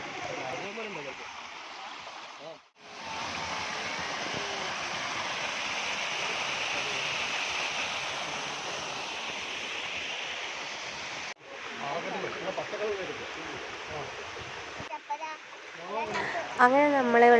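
A waterfall in a Wayanad forest pours in a steady, loud broadband rush that holds for most of the stretch, broken by two brief cuts, with people talking over the water near the end.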